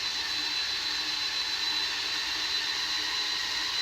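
Hurricane wind turbine spinning during a static ground run, giving a steady high-pitched whirring whine, constant and fairly loud, with no talking.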